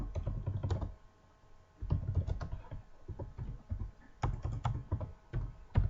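Typing on a computer keyboard, close rapid clusters of clicking keystrokes in several bursts separated by short pauses, with no voice.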